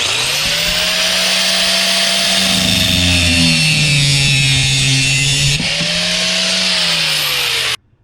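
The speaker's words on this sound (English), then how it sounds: "with a grinder I can whack that thing off pretty quickly" An angle grinder cuts through the metal of a steering wheel on a Cobra Daytona build, a loud sustained whine close by whose pitch dips and rises under load, then stops abruptly at the end.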